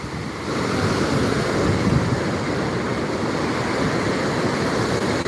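A steady, full rushing of the Tapi River's flowing water near a causeway, loud and unbroken, with a windy roar blended in and no voices.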